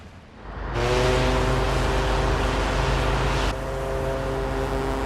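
A ship in the video game Tales of Arise sets sail, with a steady, loud engine-like rumble and droning hum that swells in and holds, shifting slightly partway through, with no voices.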